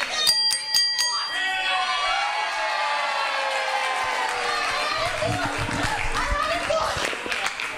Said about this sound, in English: Referee calling for the bell